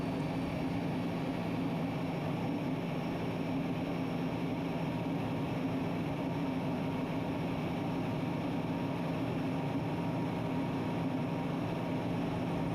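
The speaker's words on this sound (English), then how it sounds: "The A4 has an amazing sound. You can hear the intake sound coming towards the crowd, and it has an amazing rumble." An A4 Skyhawk jet making a high-speed pass at an airshow, heard as a steady, loud broadband roar with a deep rumble that holds evenly throughout.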